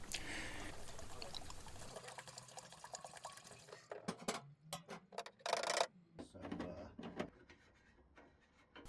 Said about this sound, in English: I bought some regular diesel to fill the tank